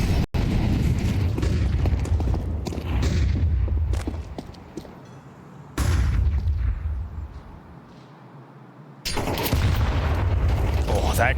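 A Counter-Strike grenade going off during a professional esports match, a heavy booming blast among gunfire and game effects, with a commentator talking over the loud, dense mix.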